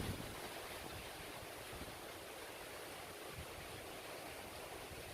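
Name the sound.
strong habagat wind blowing in the Philippines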